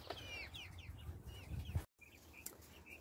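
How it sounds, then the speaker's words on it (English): A Pansy Fee rooster clucks softly in a series of short, quiet calls with a few chirpy notes, heard up close and alone against faint background noise, with a brief dropout near the middle. "this is our Pansy Fee rooster."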